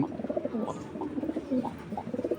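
Racing pigeons at a pigeon farm coo softly and repeatedly at close range, several overlapping low, throaty calls in a continuous murmur.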